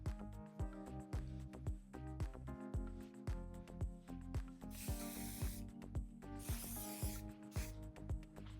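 Two bursts of hairspray hiss close by as it is sprayed onto hair set in waves with a flat iron. The hiss sits over steady rhythmic music.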